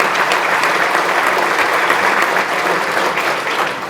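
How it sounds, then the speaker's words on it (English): Sustained, dense applause from a sizable audience, loud and even for the whole stretch, easing slightly at the end. "Please give the staff a round of applause,"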